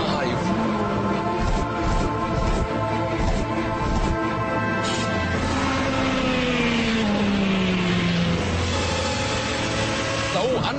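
A Ferrari F430 Scuderia engine revs hard on a racing circuit, its loud layered harmonics rising and falling as the car accelerates and shifts, with a sweeping pitch change midway through.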